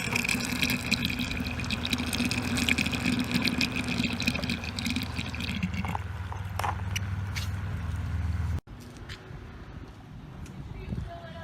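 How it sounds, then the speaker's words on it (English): A Summer Waves 10-foot quick set kids' pool filter pump runs with a steady hum as water gushes and flows in, loud and close for most of the clip before cutting to quieter trickling and faint handling. "So, I think the pump's working."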